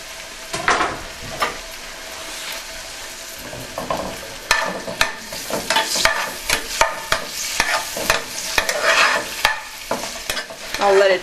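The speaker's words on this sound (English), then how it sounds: "I would saute them a little bit before adding the garlic" Vegetables and garlic sautéing together in a hot pan over lowered heat for wood-fired-oven pizza toppings, with a steady close sizzle and repeated scraping stirs of a utensil against the pan.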